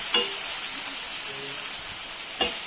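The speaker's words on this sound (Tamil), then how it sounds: "இந்த வெங்காயம் வதங்கிட்டோம்." Onions sauté in a pan for spicy egg curry, giving a steady close sizzle broken by a couple of sharp stirring clicks against the pan.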